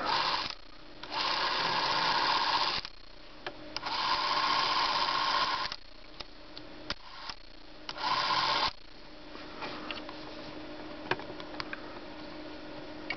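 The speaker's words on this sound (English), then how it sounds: "first wind it up" The small wind-up clockwork motor of a 1959 Bolex Paillard B-8SL 8mm movie camera whirs steadily in several bursts, each running a couple of seconds before stopping, with clicks and faint handling noise between.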